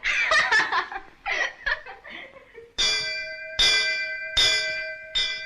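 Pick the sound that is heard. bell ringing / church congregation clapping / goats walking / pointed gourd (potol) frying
bell ringing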